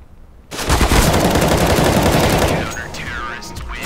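Rapid automatic gunfire in a tactical shooter video game, a loud sustained burst lasting about two seconds and then tapering off, close and dense, with brief voices chatting behind it.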